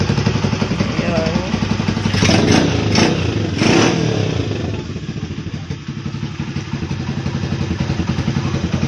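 A restored Kymco motorcycle engine with fresh wiring and a cleaned carburetor idles with a steady putter, then revs sharply a few times before settling back to idle, with voices talking over it.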